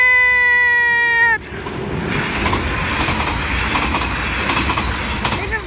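A train passes a level crossing at Sint Joost, its loud steady rumble and rail clatter close by, after a brief high tonal warning sound at the start; no clear speech.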